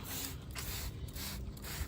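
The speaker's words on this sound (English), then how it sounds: "So yeah, so just spray them." Close, continuous hissing spray of insecticidal soap onto plants in several bursts, with brief dips between pulses, heard alone.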